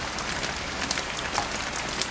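Rain falls steadily outdoors as an even, dense hiss of drops with small scattered patters on surfaces, unbroken for the whole stretch, with no voices.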